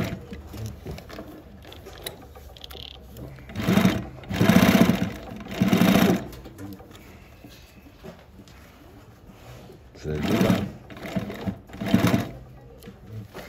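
A Consew 255RB-3 or Juki LU-1508NH industrial sewing machine stitching with bonded nylon thread, several loud bursts of rapid mechanical whirring separated by quieter pauses, close by.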